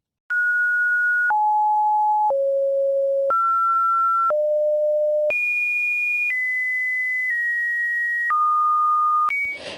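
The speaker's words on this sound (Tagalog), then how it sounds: "may nakakarinding tunog na may iba't ibang tono" A sequence of pure electronic Webdriver Torso test tones, each held about a second, jumping between different pitches with no gaps, loud and steady throughout.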